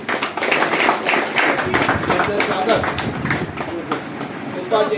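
An audience at an International Yoga Day gathering at a yoga centre in Vasai claps in a brisk, uneven rattle of many hands, close and loud, mixed with a speaking voice.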